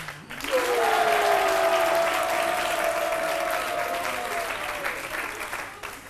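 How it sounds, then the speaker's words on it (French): A French daytime TV talk show studio audience breaks into sustained, loud applause that holds steady for about six seconds with a few whoops and a tonal sweep riding on top, then begins to thin toward the end. "Applaudissements bien nourris pour la hashtag Papato Alissa Zena."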